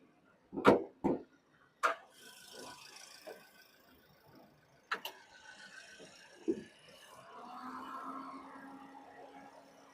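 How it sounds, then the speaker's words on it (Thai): The hood of a Toyota Vios car is opened: a handful of sharp metallic clunks and latch clicks come at uneven intervals, close by, followed by a low, steady hum. "ขออนุญาตเปิดฝากระโปรงก่อน"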